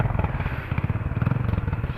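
Loud, close motorcycle exhaust with freshly painted pipes, revving in a rough throbbing pulse that shakes and crackles steadily for two seconds; no talk over it.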